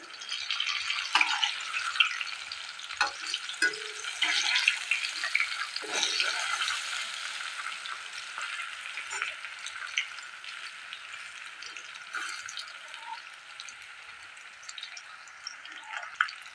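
Taro (kachu) flowers fry in a pan with a continuous bright sizzle and crackle, steady and moderately loud, marked by occasional sharper pops and stirring scrapes.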